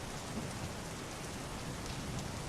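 Heavy rain pours down in a steady, dense hiss while low thunder rumbles underneath a stormy night, with no voices.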